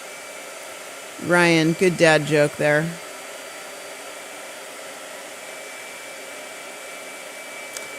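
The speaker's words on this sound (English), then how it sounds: "Blow dryer." A blow dryer runs as a steady, even whine throughout, with a person speaking briefly over it early on.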